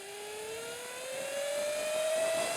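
Sur Ron Light Bee electric dirt bike accelerating under throttle, a steady electric whine rising smoothly in pitch over a few seconds, fairly loud and close, with no talk.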